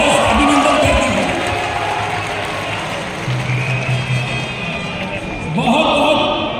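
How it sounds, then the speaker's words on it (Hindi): At the Ulgulan Maha Rally on Prabhat Tara ground in Ranchi, a large outdoor crowd claps and cheers in a continuous loud roar that swells and fades, with scattered shouts mixed into the din. "एक बार अपने आप के लिए भी जोरदार तालियां बजा के थोड़ा सा अभिनंदन कर दीजिए।"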